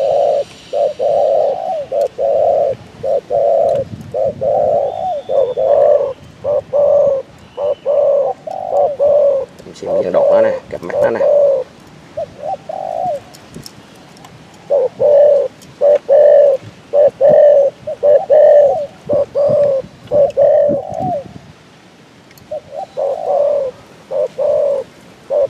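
Repeated cooing of a Vietnamese cu gáy (spotted dove) kept as a singing bird, its full, steady coo phrases coming close and loud in regular bursts with short pauses between them and no talk.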